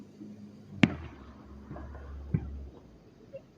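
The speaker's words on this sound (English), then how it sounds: "It's satisfying for the little pops. Like the explosions. And that little boom." Fireworks go off at a distance, with a sharp pop followed by a couple of fainter, softer bangs over a low background rumble.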